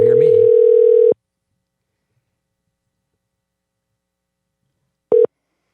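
A telephone line tone sounds while a podcast host places a call to a guest: one steady, fairly loud tone for about a second, then silence, then a second short burst of the same tone.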